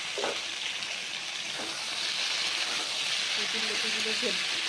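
Taro stolons hit a hot pan of fried dried fish, giving a steady, dense sizzle that holds throughout, with a voice briefly heard near the end.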